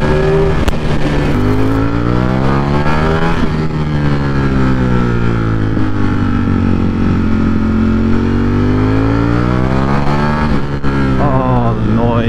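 Ducati Streetfighter V4S motorcycle engine revving hard, loud and close, its pitch climbing and falling through repeated throttle sweeps in a sustained roar with no talk over it.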